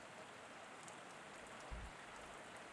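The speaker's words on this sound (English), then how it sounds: "It's 21:45 hours and it's raining." Rain falling at night in the Combat Mission war game, a faint, steady wash of patter with a soft low thump partway through.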